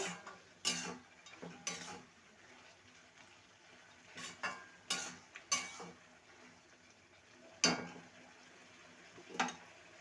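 Gourd curry with fried bori stirred in a pan, quiet sizzling under a series of sharp spoon-on-metal scrapes and clinks at irregular intervals, close and fairly soft.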